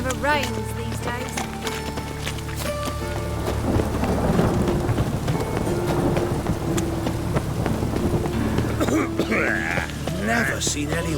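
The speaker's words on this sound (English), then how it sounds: "It only ever rains these days." Steady rain and rolling thunder from a storm in the video game The Witcher 3: Wild Hunt fill the scene, with voices talking over the downpour and clashing sounds of a fight.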